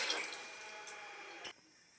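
Water poured into a cooking pot while making gongura chicken biryani, a steady close splashing stream that cuts off near the end, with no talking.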